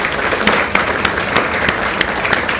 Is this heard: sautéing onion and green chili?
no